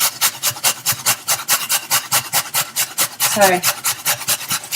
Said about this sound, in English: the easiest way to put onion in raw is to grate it